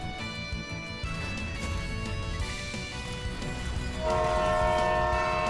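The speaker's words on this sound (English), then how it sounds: "A train?" Train horn in the video game Mirage Feathers, a sustained multi-tone blare rising out of dense game music and effects, growing louder and steadier over the last second or so.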